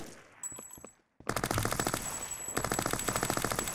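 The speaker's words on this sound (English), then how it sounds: "He's shooting, right?" An AI soldier in a CryEngine 5 game firing an automatic gun, giving loud rapid bursts of gunfire that stop for a brief silence and then resume in a sustained stream of shots.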